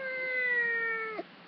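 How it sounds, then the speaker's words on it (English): A young kitten lets out a single drawn-out meow, close and clear, ending in a short downward break. "This is my cat."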